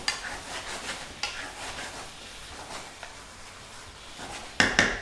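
Green onion gets stirred into fried cauliflower for cauliflower bang bang, giving soft, close scraping and light sizzling with a few sharper clinks of the utensil against the pan near the end; nobody speaks.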